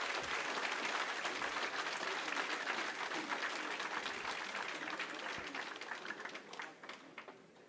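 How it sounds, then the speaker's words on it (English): An auditorium audience in Mangaluru gives a big round of applause for K. Annamalai at a public talk on democracy, a full, dense roar of clapping that holds steady and then thins out toward the end. "please give a big round of applause to Mr."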